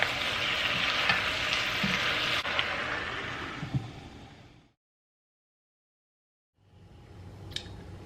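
Cabbage frying with sausages and bacon in a pan, a steady loud sizzle with stirring scrapes that cuts out for about two seconds, then returns more quietly.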